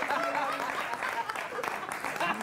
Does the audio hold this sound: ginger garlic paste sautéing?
no